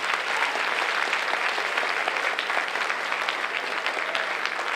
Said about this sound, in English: A nice round of applause for John.